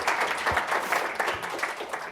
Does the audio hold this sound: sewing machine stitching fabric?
no